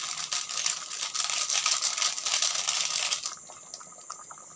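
Water splashes and pours into a pot of spiced potato curry, a close, rushing, bubbling flow for about three seconds that stops abruptly, leaving faint clinks and quiet kitchen sounds.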